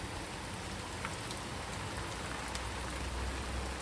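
Steady rain falls outdoors during a Deepavali celebration, a dense, even hiss of drops on surfaces with faint scattered patters and no voices.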